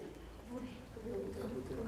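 A human voice imitating a pigeon cooing, repeated soft throaty coos spoken aloud in a children's session, close and clear.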